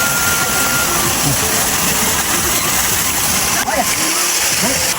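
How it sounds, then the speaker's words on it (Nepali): Steady heavy rainfall splashing and pattering throughout, a dense continuous wash of water noise with a brief voice or movement near the end. "पानीको झरीले डिस्टर्ब गरिरहेको छ"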